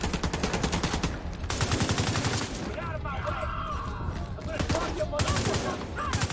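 Bursts of rapid gunfire in The Division 2 crackle close and loud, several sustained volleys broken by short gaps, with a voice calling out between them.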